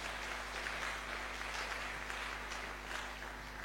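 A church congregation claps steadily and loudly in unison, a dense continuous wash of applause with no pauses throughout.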